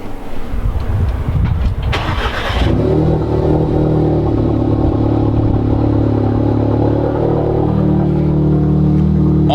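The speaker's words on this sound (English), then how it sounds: "no car vlog is good without a good, solid cold start" An Audi S3 engine cold start with a resonator delete, loud and close: a cranking clatter, then the engine catches and settles into a steady, droning idle.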